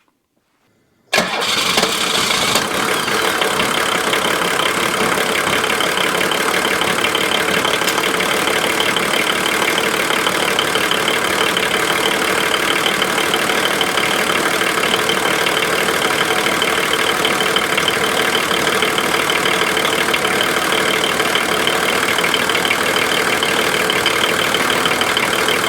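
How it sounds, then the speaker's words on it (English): A car engine, older R12 air-conditioned vehicle being converted to R134a, cranks and catches after a second of silence, then idles steadily and loudly for over twenty seconds, close up with no talk. "So time to begin the engine."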